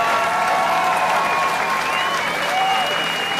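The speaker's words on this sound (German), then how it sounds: "Gebt euch dafür einen Applaus." Crowd applause at a political rally, steady clapping that fills the space throughout, with faint tonal whistles or cheers rising above it.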